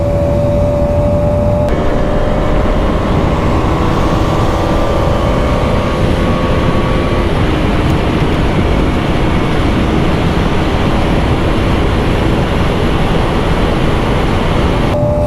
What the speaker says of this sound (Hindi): फिफ्थ गियर, और फिफ्थ गियर में ड्यूक की टॉप स्पीड हिट कर ली हमने।